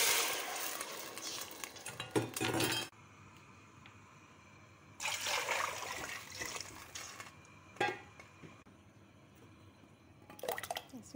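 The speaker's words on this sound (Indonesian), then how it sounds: "Kita masukkan air." Water goes into a cooking pot for vegan lotus root soup in several separate bursts of splashing and gurgling, each a few seconds long, with quiet gaps between them.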